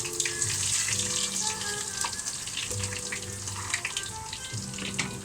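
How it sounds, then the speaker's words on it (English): Chicken curry with ginger sizzles in a pan, a steady dense crackle and hiss of frying oil throughout, with faint clinks and a low background hum, no voices. "it is now fucking frying"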